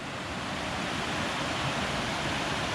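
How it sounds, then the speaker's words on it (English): Lower Falls at Stone Mountain State Park in North Carolina roars as a steady, dense broadband rush of falling water, close and continuous throughout with no voices. "an awesome waterfall"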